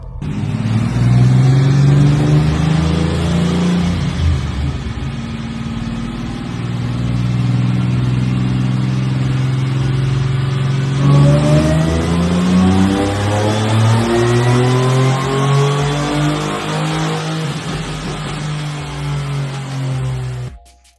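A supercharged V6 Pontiac Firebird revs on a dyno, the engine note climbing steadily through two long loud pulls with rising whine, then dropping off abruptly at the end.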